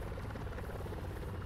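Military helicopter in Arma 3, a steady close rotor drone with continuous low thumping and broad buzz filling the whole moment without talk.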